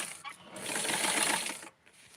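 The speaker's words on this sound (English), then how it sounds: "So I'm going to lightly, very tightly sew the edge of the back, and it's going to have another fold." A sewing machine runs a tight stitch along the folded back edge of a small Barbie doll garment, a steady whirring burst of about a second after brief start-stop taps, close and fairly quiet.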